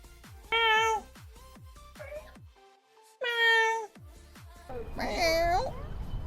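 BadboyHalo imitates a cat, voicing a few drawn-out, high meows in separate bursts, with quieter vocal noises and babble between them. The voice is near and moderately loud.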